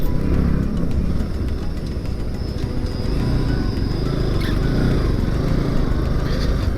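An NS 200 motorcycle engine runs steadily and loudly up close, a continuous rough rumble with no pauses.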